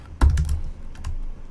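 Close, crisp keystrokes on a computer keyboard come in a short burst of a few quick clicks, with one harder first press, as someone types Java code.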